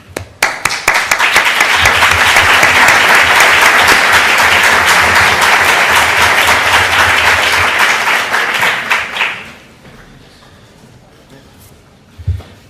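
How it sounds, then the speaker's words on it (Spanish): An audience applauds speakers and sponsors at the opening session of an education lecture. The clapping is dense and loud for about nine seconds, then fades out, and a brief bump of noise follows near the end. "creo que le debemos un merecido aplauso"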